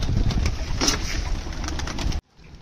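Hungry pigeons in a coop coo and rustle close by in a busy, overlapping flock chorus that ends abruptly into near silence.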